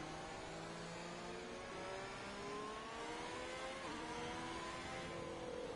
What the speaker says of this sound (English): safety car got going